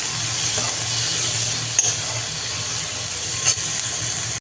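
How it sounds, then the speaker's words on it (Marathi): Chopped tomato frying in a pan for paneer bhaji gives a steady, close hiss and sizzle with a couple of faint clinks, and no one speaks. "टोमॅटोही थोडासा गळेपर्यंत फ्राय करायचा आहे याच्यामध्ये"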